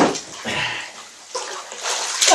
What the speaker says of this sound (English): And that's to wash the cutlery.